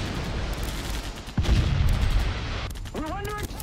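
Secondary guns on a warship fire high-explosive shells in a naval video game, a sharp boom jolting through a steady low rumble of gunfire, with voices talking over it.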